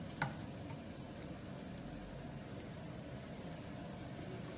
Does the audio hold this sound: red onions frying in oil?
yes